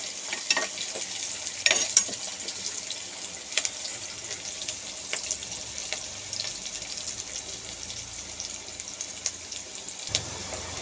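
Onions frying until brownish in a pan for pulagandha pulusu curry: continuous gentle sizzle with occasional stirring clicks and scrapes, close up and without talk.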